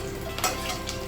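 Chopped onion and seven green chilies frying in hot oil, giving a soft steady sizzle with a couple of brief scraping stir sounds.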